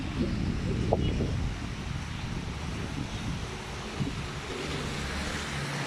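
Water rushes steadily outdoors along Hacı Ahmet Stream in Balçova, swollen after rain, with a broad, even wash of noise, faint wind and occasional small knocks.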